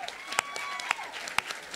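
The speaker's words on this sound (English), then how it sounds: "Round of applause," Applause from an audience at a live drawing event at a book festival, a dense patter of claps with a few sharper hand slaps standing out, moderately loud and continuous for a couple of seconds.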